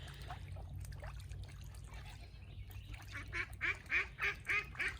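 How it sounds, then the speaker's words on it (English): Ducks quack in a rapid, rising series of nasal calls near the end as they enter a pond, over a low steady rumble of running water and background noise. "Oh, look at the ducks going into their pond."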